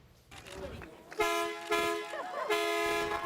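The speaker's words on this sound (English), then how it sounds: "getting to sit behind the wheel of a Mack truck and honk the horn" A Mack truck horn honks in several loud, sustained blasts with short gaps between them, mixed with voices and crowd noise.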